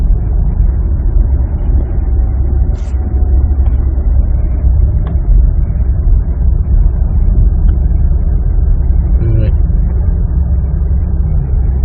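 Diesel engine of a 2014 BMW 740d under full throttle on a test drive, with poor acceleration and a power-limiting fault, droning steadily from inside the cabin with low rumble and road noise throughout.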